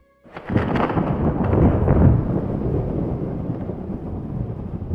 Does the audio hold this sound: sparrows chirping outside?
no